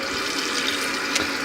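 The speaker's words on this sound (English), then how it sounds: "get a little water in the saucepan here" A steady rush of tap water running into a saucepan on a home stove before making popcorn, constant and fairly loud with no talking.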